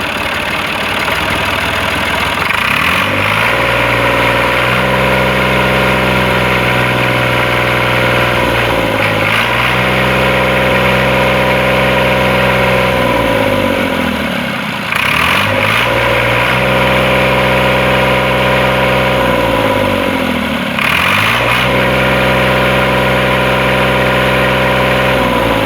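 A vehicle engine idles during a blow-by check for export inspection, a loud, steady mechanical drone with a few surging dips in pitch and no voices.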